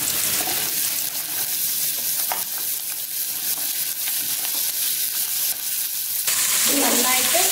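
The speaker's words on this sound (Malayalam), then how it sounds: "ഇപ്പോൾ ഓയിൽ നന്നായിട്ട് ചൂടായിട്ടുണ്ട്. അതിലോട്ട് നമുക്ക് അരിഞ്ഞു വെച്ചിരിക്കുന്ന 6 സവാള ചേർത്ത് കൊടുക്കാം." Chopped onions fry in hot oil, giving a steady, close sizzle that runs throughout with occasional stirring scrapes and a brief louder burst near the end.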